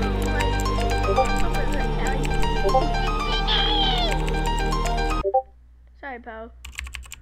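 Cartoon-style meowing cat calls come in a couple of short, rising cries near the end, following a busy stretch of layered electronic effects and keyboard-like clicking, with voices present.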